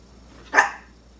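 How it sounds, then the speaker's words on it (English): A puppy lets out a single sharp bark, close and fairly loud, standing alone against a quiet indoor background. "Silly puppy barks at everything."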